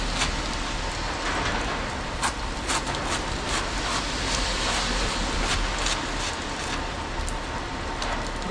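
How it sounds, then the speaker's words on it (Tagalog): Heavy rain pours steadily, a dense hiss with scattered louder drops and splashes hitting nearby surfaces. "sobrang lakas ng ulan"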